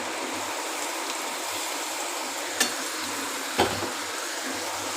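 Prawns go into a pan of fried spice paste and potatoes for a prawn malai curry, producing an even, continuous sizzle with two brief sharp knocks against the pan partway through and no voices.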